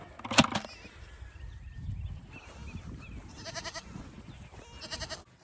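Goats on a farm, penned in a horse pasture, bleat in short, clear bursts near the start, middle and end, over a low background rumble.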